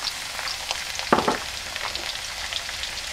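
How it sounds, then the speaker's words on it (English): Onions, cinnamon, pandan leaves and garlic frying in hot oil for a crab curry, a continuous sizzle with crackling pops and a brief louder stir near the middle. "When it is hot, I'm going to fry the onions."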